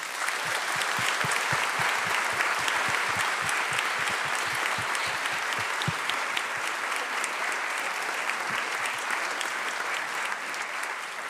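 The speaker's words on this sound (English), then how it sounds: "Let's just give her another round of applause." Loud, sustained audience applause for a Hungarian Romani singer, dense clapping from a large crowd filling the room evenly for about eleven seconds without letting up.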